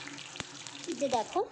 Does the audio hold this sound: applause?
no